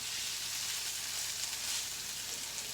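Meatballs sautéing in a pan give off a continuous, even sizzle, close and moderately loud with no talking.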